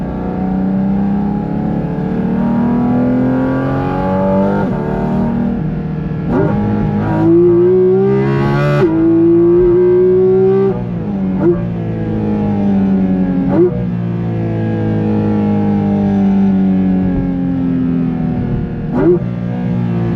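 A Porsche GT4 RS flat-six engine revs hard toward 9,000 RPM, loud and close, its pitch repeatedly climbing in sweeping rises and dropping between shifts, with no talking over it.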